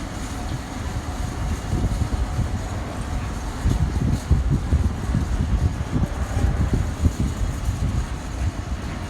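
A Class 88 bi-mode locomotive hauls a train past on the West Coast Main Line, giving a continuous loud rumble with rhythmic wheel clatter and wind buffeting throughout.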